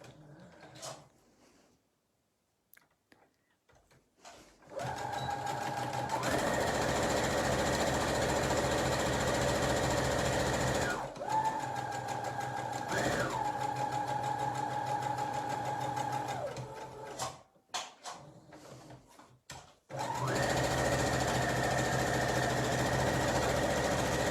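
A sewing machine stitches an Easter bunny bag, including reverse stitches, its motor whirring in long steady bursts with pauses and pitch shifts between runs, close and loud with no talking.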